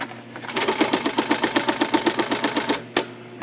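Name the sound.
IBM Selectric electric typewriter running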